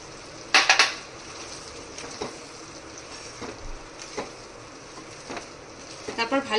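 A spoon clatters and scrapes in a pot of chicken bhuna, giving a few sharp metallic knocks and softer stirring scrapes at an even, moderate level, with faint frying beneath.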